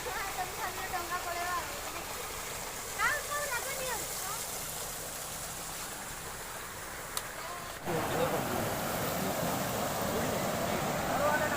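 A small waterfall at Jiranga and Khasada in Odisha gives a faint steady rush of falling water. People talk over it at first, then the water grows louder and broader in the last few seconds.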